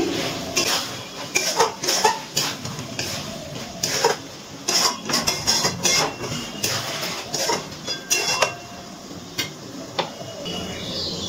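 Chicken curry with potatoes being stirred in a pot: repeated scraping and clinking of a spoon against metal in uneven bursts, close and moderately loud, with no talking.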